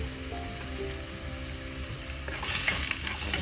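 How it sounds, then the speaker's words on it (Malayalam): Crushed shallots and curry leaves sauté in hot oil in a pan for a fish curry, a steady close sizzle that swells brighter and louder near the end as the pan is stirred. "ഉള്ളി ചതച്ചത് കറിവേപ്പില എല്ലാം ചേർക്കാം"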